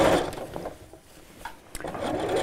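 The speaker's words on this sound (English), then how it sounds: "So now I'm just going to sew round and round in spirals until I've finished shirring the whole area that I want to." A sewing machine runs continuously, stitching shirring elastic in spirals across the fabric of a child's dress, with a steady whirring hum that dips briefly and then picks back up to full speed.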